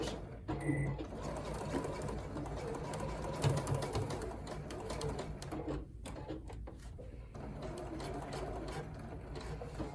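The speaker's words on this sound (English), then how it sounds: "So place it under the machine, and you'll be sewing right on that chalk line that you drew." A sewing machine stitching along a chalk line on the waist of men's slacks, a fast continuous whirring run of the needle with a brief pause and restart, moderately quiet and close.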